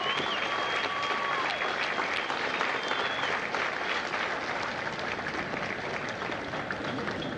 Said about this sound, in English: a round of applause for the families of Hotel Hell